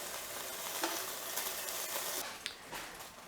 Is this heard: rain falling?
no